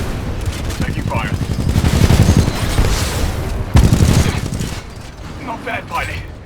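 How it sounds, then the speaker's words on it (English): Dense gunfire in the shooter video game Titanfall 2: loud, continuous bursts of automatic fire and explosive booms fill the whole stretch, with heavy impacts around the middle and a game voice speaking over the battle. "Taking fire."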